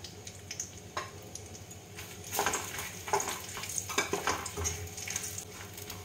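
Cinnamon, green cardamom and three or four bay leaves sizzle in hot ghee, a steady crackling fry with scattered louder pops and light stirring, no talk.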